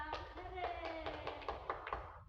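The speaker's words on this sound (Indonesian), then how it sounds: "tepuk tangan untuk Elsa" A few scattered, irregular claps in a classroom as pupils applaud a classmate named Elsa during a civics lesson, with voices murmuring underneath.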